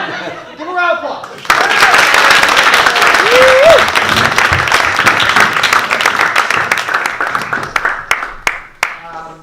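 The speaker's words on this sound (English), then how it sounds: "Give a round of applause." A crowd at an improv comedy night bursts into loud, sustained applause after a few seconds of talk, clapping steadily before tapering off into scattered claps.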